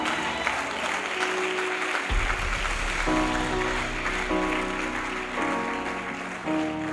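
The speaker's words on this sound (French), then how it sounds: "Je veux qu'on acclame encore." Audience applause from a church congregation, a dense sustained clapping that fills the whole stretch at fairly close range, with organ or keyboard chords playing underneath toward the end.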